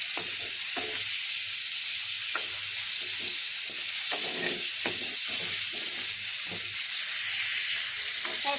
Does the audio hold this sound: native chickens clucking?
no